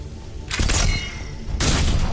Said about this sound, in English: If gunfire doesn't put them on notice